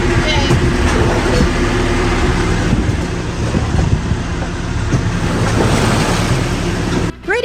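Rough ocean passage with large waves rolling a sailboat, a loud continuous wash of surf and wind noise buffeting close by, with voices mixed in beneath.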